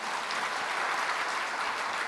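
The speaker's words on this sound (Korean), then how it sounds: "성가대를 위해서 박수 한번 하십시다." Worshippers at a church service applaud the choir, a steady, moderately loud patter of many hands clapping together without a break.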